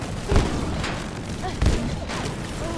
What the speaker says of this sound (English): Dodge and shoot.